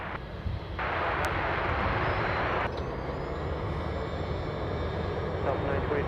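A Delta Boeing 737 airliner, flight 922 arriving from Seattle, rumbles and roars steadily at Anchorage airport, a broad engine noise holding for several seconds at moderate distance.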